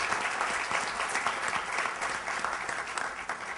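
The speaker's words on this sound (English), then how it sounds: "let's give Stephanie Tubbs Jones a big round of applause. Let's applaud her for who she was." An audience at a Congressional Black Caucus legislative conference session applauding in tribute to Stephanie Tubbs Jones, a full, sustained round of many hands clapping steadily at even strength.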